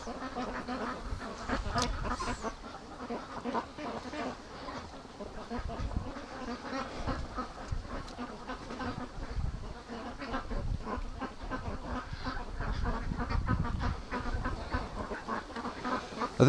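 Several free-range ducks, Muscovies among them, come back from the yard and quack busily in a steady, low clamour. A buzz of insects runs underneath, and there are no voices.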